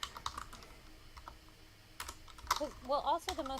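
Someone types on a computer keyboard in scattered bursts of close, crisp key clicks, while a person talks over the later part.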